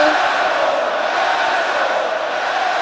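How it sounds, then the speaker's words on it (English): A wrestling crowd at an independent show roars through a wrestler's entrance, a dense, steady wash of cheering and shouting that stays loud and unbroken throughout. "listen to this crowd"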